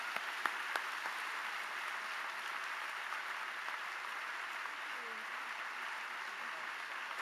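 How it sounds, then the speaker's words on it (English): Sustained applause from an audience at a University of Texas event welcoming Secretary Antony Blinken and Senator Hutchison to the stage, a steady, dense wash of clapping that holds evenly throughout with no voices over it. "Please join me with a round of applause welcoming Secretary Blinken and Senator Hutchison for them to take the stage"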